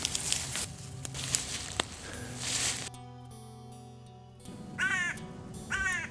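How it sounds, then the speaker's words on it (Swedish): Two loud bursts of crow caws ring out near the end, each a short run of harsh calls, following wind noise and a steady low hum on an exposed sea skerry. "Kråkan kraxar ivrigt här ute på skäret i havsband"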